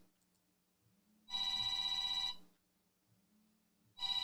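A telephone rings on a radio call-in show, giving one loud, sustained electronic ring burst of about a second followed by the start of a second ring, with quiet background between them.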